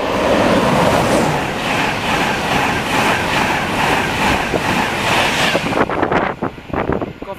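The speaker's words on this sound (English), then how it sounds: "Now passing is another Virgin Trains East Coast service." A Virgin Trains East Coast service passing through Stevenage station on the East Coast Main Line, a loud sustained rush and rumble with wind buffeting, then breaking into rhythmic wheel clatter as the last carriages go by.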